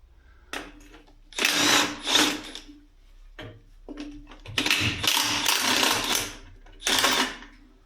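A power tool unscrewing a part on a MAZ truck being built with a turbo, heard in several loud, close bursts of whirring separated by short pauses and softer clicks.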